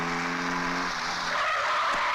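A car brakes hard to a sudden stop with a loud tire squeal that slides downward in pitch, then a rough skidding hiss as it halts, close by and with no voices.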